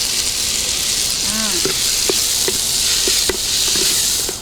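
Onions, garlic, tomato and curry leaves fry in hot oil for a spicy Jaffna crab curry, giving a steady bright sizzle with a few scattered utensil clicks and taps.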